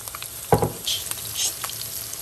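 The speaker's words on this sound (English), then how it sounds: "Add little bit oil, onion, and your chili." Onion and chili hitting hot oil in a pan, a sharp burst of sizzling as they drop in, then a steady frying hiss with a few stirring scrapes, close and fairly loud.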